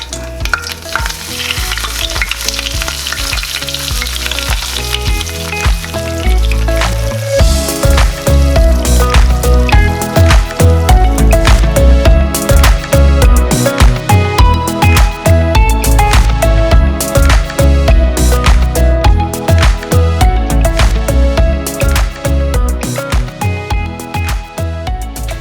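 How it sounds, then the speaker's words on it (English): Tilapia fish frying in very hot oil, a loud, steady crackling sizzle that runs continuously throughout with dense popping spatters and no voices. "then we're gonna fry the fish"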